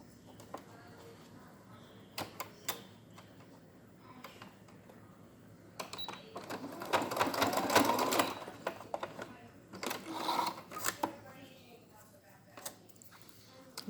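A sewing machine tacks elastic onto a homemade cloth face mask in short stitching bursts, with a longer run in the middle, clicks between bursts and quiet stretches.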